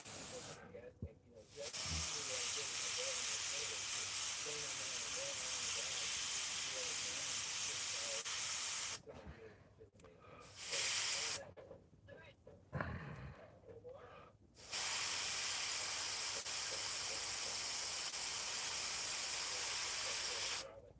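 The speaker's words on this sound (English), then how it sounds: "Make sure it sprays all right." Spray nozzle being tested, loud steady hissing blasts in several long bursts separated by short breaks.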